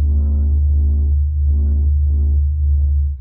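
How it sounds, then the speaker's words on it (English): The sun's pressure oscillations, sped up into audible sound, come through as a low, steady droning hum. Soft rising and falling swells pulse over it, about four of them, with no voices. "This is the sound of the sun singing."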